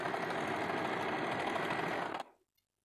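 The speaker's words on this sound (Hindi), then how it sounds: "अभी हम इस साइड का सिलाई कर देते हैं।" Sewing machine stitching the side seam of a double katori blouse, a steady close, even whir of rapid stitches running continuously for over two seconds before stopping abruptly into silence.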